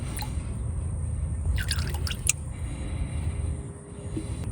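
Brake fluid drips while a master cylinder is bench bled on a $300 Maverick: a few distinct close drips land over a steady low background hum.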